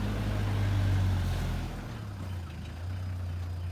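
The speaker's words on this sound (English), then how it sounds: "The truck was struggling to get up the hill" A truck engine labours uphill with a steady low drone that eases slightly partway through, close and continuous, with no talk.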